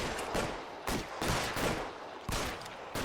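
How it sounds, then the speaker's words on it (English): Heavy gunfire in the L.A. Noire video game, dense bursts of shots in loud overlapping volleys that swell and fade every half second or so, with no talk. "Yeah, we're getting so much shooting."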